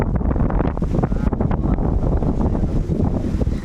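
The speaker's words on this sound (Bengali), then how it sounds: "ওই বাতাস শুরু হয়ে গেছে" Strong wind gusts across the microphone outdoors beside a wetland, a loud, continuous roaring buffet with no pauses.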